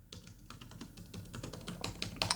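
Keys clatter on an HP Omen Max 16 gaming laptop keyboard with 1.5 mm travel, a quick run of close, crisp taps that grows busier and louder toward the end.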